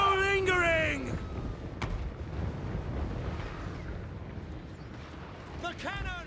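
Cannon fire booms in the Total War Warhammer 3 fantasy battle game, with a sharp report amid dense rumbling battle noise, while shouted in-game voices are heard over it at the start and end.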